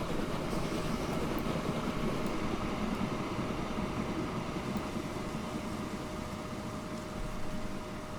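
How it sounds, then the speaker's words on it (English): A train rolls along the rails in the video game Transport Fever, giving a steady, loud rumbling drone with faint clacking that holds at an even level throughout, with no talking. "And it sounds how a train should when going along the lines"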